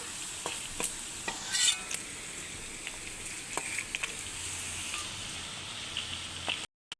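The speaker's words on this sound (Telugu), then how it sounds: "కరివేపాకు కూడా వేసుకుంటున్నాను. వీటితో కాసేపు వేగాలి." Curry leaves and tempering spices frying in hot oil for sojji pulihora, a steady close sizzle broken by sharp stirring clicks and a brief louder burst of crackling.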